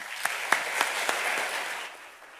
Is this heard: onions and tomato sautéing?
no